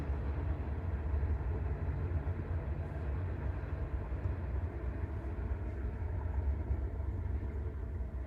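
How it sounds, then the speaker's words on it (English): A train passes behind a house, heard from indoors as a steady low rumble with rolling rail noise. It stays continuous and fairly faint and distant throughout, with no talk over it. "Did you hear the Train. You hear the train?"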